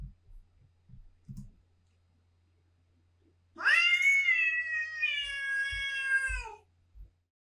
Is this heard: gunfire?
no